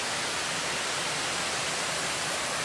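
A waterfall in Pisgah National Forest sends up a steady, dense roar of rushing water. The sound holds even and unbroken throughout, with no voices.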